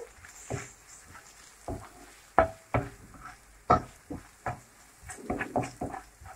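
Tuna with ginger and spices being stirred in a pan over lowered heat, heard as irregular scraping and tapping strokes of a utensil over a faint sizzle, close by and quiet.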